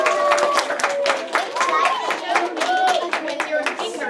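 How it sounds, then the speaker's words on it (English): Children in a classroom clapping, a brisk patter of small hands with chatter and voices mixed in, fairly close and lasting a few seconds. "applause for toy number"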